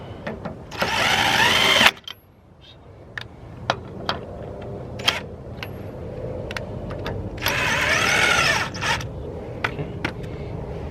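Power tool driving trailer wheel lug nuts in two loud whirring bursts separated by a quieter stretch of sharp clicks and taps, no talking.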